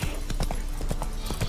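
Horse hooves clip-clop at a steady walking rhythm in The Witcher 3, close and clear with even, evenly spaced beats under a soft background bed, with no talk over them.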